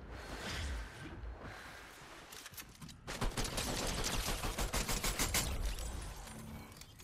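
Gunfire in the Fortnite video game: rapid bursts of shots crackle in quick succession, easing briefly, then rising into a sustained, loud barrage of rattling rounds that tapers toward the end, with no talking over it.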